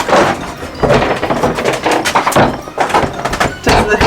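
A stuck door is closed and wrestled with, giving a run of close thumps, knocks and rattles at uneven intervals, with a couple of heavier bangs near the end.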